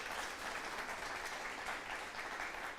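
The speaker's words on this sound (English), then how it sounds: "Let's give Chris Combs one more round of applause for being here this evening." An evening Deep Talks audience applauds guest Chris Combs, a sustained, even wash of many hands clapping at moderate distance, heard alone without talk.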